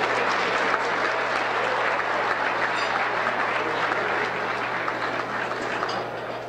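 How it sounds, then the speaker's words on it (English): A large audience at a 2012 community event gives sustained, even applause, thick and loud throughout with a steady hum beneath. "Let's now give them a great round of applause."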